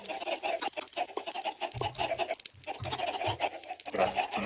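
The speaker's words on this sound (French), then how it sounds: "En fait il y a trop de poulets, je sais pas pourquoi ils ont mis autant de poulets." Chickens cluck repeatedly in a video game on a Minecraft-style server crowded with poultry, a dense busy layer of short calls with some lower thumping game sounds, no talking.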